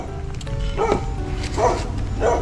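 Dog barking and yipping in a few short bursts, fairly near, over a steady background of low rumble and other sounds.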